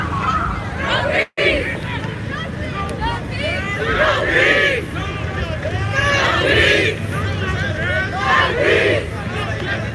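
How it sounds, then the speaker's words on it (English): A protest crowd packed into a Hollywood street intersection in Los Angeles, a dense roar of shouting voices and chanting that swells in waves, loud and close, with a brief dropout near the start. "As the crowd gets a little louder here right in the middle of the intersection."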